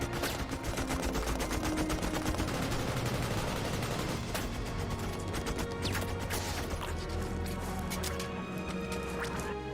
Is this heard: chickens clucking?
no